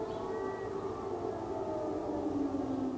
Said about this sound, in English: Air raid sirens sounding again Wednesday morning in Kiev